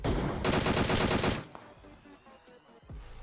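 A burst of rapid automatic rifle fire in a shooter video game rattles loudly for about a second, then cuts off, leaving quieter game ambience with a faint distant shot near the end.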